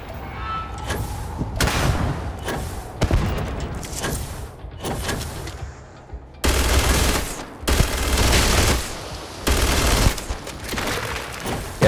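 Gunfire in the sci-fi shooter Starfield: loud bursts of automatic weapon fire come in several clusters with short pauses between them, sharp and close, with heavy booming impacts and no talking.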